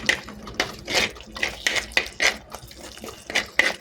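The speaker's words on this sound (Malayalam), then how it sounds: "കുറച്ച് ചൂടുവെള്ളമാണ് ഒഴിച്ചു കൊടുക്കുന്നത്" Hot water is poured into chilli masala frying in a pan for a fish curry and then stirred, making repeated splashy, hissing bursts and scraping stirs in a close, fairly loud, uneven rhythm.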